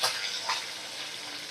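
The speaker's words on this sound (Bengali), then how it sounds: "আমি মাছগুলো এবারে উল্টে পাল্টে ভালো করে ভেজে নেব।" Fish fry in hot oil in a pan while being flipped, a loud, continuous close sizzle that flares briefly at the start and again midway.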